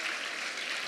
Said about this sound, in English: I would like to give my strong round of applause to all these 14 children who presented